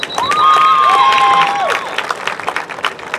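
Loud applause and cheering from a high school football crowd on senior night, honoring senior players of the Red Raider team; a whistle-like tone rises over the clapping early, then the applause thins out toward the end.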